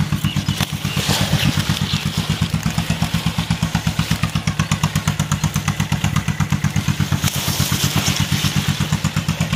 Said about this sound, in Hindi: सामने बोर भी चल रहा है, तो उसकी आवाज़ भी आ रही होगी जी